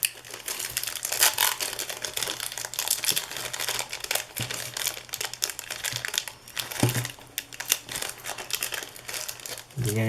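Old 1990 basketball trading cards being handled and shuffled in a stack, giving a steady run of close crinkling, rustling and flicking with sharp papery snaps scattered throughout.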